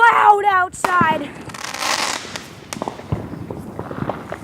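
Fourth of July fireworks bursting outdoors, a loud opening boom followed by scattered crackling pops and distant rumbling bangs, with people talking over the noise.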